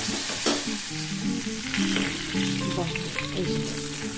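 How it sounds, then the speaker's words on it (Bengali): Food frying in a pan until deep red-brown for muri ghonto, a continuous close sizzle with stirring scrapes and clatter throughout. "খুব ভালোভাবে লাল লাল করে ভেজে নেব।"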